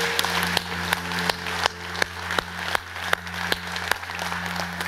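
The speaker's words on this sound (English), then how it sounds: "can we give the Lord a hand clap of praise today?" In a church, scattered hand clapping from the congregation rises over a steady background hum, with distinct sharp claps standing out at a roughly regular pace above softer, thinner applause.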